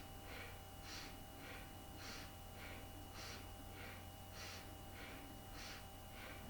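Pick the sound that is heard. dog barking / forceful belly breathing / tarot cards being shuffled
forceful belly breathing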